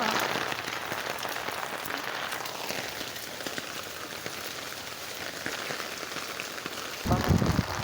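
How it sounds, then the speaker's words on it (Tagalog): Heavy rain pours onto a flooded street in a steady hiss of dense drops, close and continuous, with a louder splashing burst near the end and no voices. "Walang tigil sa kaulan guys."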